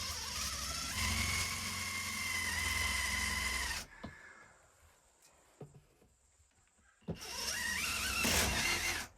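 A loud, steady motorized whir runs for several seconds, stops into near silence with faint clicks, then starts up again, like a power drill driving.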